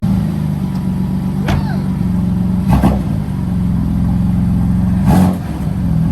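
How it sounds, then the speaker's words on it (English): A BMW M4 fitted with a new intercooler drives off on its first run, its engine note steady and fairly loud from inside the car, with a few brief knocks and rattles over the drone. "this first drive, I'm gonna go ahead and take it down the road. I'm gonna get in the boost a little bit"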